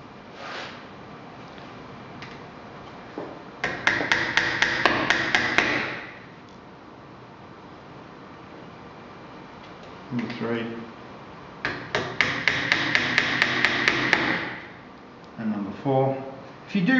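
A hammer taps brass pins into hinges while fitting them to a wooden box, with two bursts of rapid small metallic taps, roughly ten strikes each, close up, and a few scattered knocks between them.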